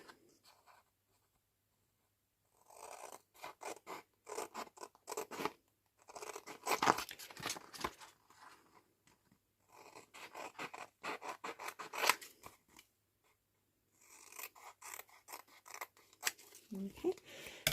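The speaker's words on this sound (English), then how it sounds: "just come in with my bigger scissors" Scissors snipping through paper in repeated bursts of short crisp cuts, close up, separated by brief pauses.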